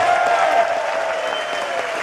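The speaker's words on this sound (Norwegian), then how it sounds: "Ordentlig første store applaus." A festival audience applauds a performer, a dense, steady wash of many hands clapping together that holds at an even loudness throughout without any voices breaking through.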